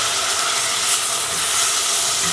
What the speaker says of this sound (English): So my sugar, as you can see, started to melt. So I'm just gonna add just a small amount of water to it